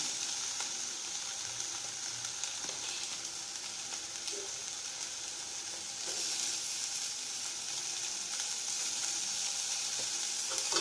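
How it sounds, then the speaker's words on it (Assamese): Large-cut onions fry in olive oil over a very low gas flame after ginger, garlic, green chilli and potato went into the pan, giving a steady sizzle with occasional faint stirring. "পিঁয়াজখিনি দিব আৰু গেছটো একদম চিমত থৈ পেলাই এনেকৈ ভাজিব।"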